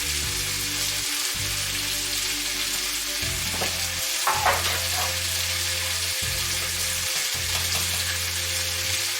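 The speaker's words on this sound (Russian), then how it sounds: "Сильно лук зажаривать не нужно, он должен слегка подзолотиться и быть мягким" Onion sizzles steadily in a frying pan, a constant close crackle with a few brief stirring clicks partway through.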